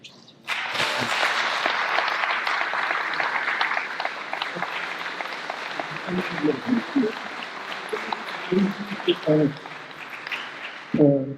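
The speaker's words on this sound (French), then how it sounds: "on peut tous l'applaudir" A French audience at a public testimony gathering applauds for about ten seconds, a dense, even wash of clapping that tapers off as voices begin speaking over the last few seconds.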